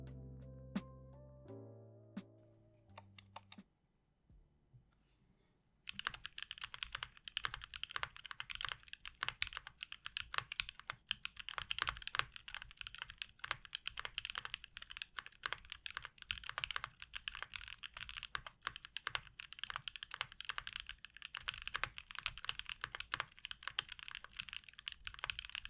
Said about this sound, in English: I don't like the sound of the board with the aluminum plate. It's too loud and high pitched.